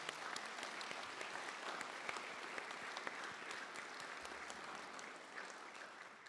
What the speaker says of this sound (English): So let's give a big applause to your relatives and everybody here.